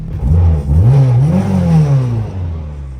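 A 661 HP Honda R34 GT-R engine revs up and down in loud, rising and falling sweeps, close by and alone for a few seconds before settling.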